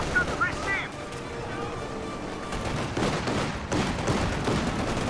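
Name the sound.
MG34 machine gun firing in a video game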